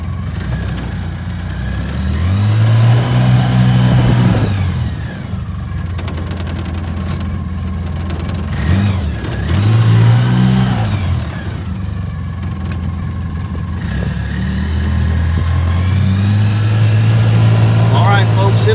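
A Polaris Ranger 800 utility vehicle's engine drones close by, revving up and easing off several times as it drives along, loud and uneven.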